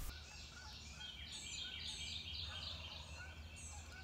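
A wild turkey gobbles in spring woods in Missouri, several throaty bursts rising over a steady low rumble of background noise, fairly distant and mid-level in volume.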